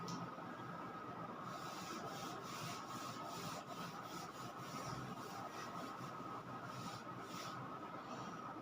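Writing is rubbed off a classroom board with steady, scratchy strokes, a continuous close friction sound with faint rhythmic pulses and no talk over it.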